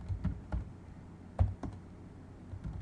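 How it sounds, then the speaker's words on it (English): Soft, sparse keystrokes on a computer keyboard as a short message is typed, a handful of light clicks spaced irregularly, close by and quiet. "So I'm going to type this out to my friend Glindy."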